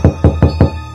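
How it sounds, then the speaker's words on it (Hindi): In a cartoon, someone raps on a toilet door with four quick, evenly spaced knocks, close and loud, with no other sound around them. "तभी उस टॉयलेट का दरवाजा कोई ठोकता है।"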